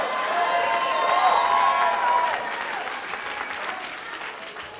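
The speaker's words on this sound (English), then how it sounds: "Let's give him a round of applause." A wedding reception crowd breaks into sustained applause, a dense wash of many hands clapping that swells and then slowly eases off, with a few faint cheers.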